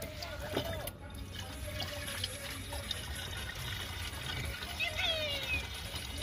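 Water poured to top up the windshield washer reservoir of a Hyundai i20, a soft continuous trickle and gurgle close by, over a faint background of voices and ambient hum.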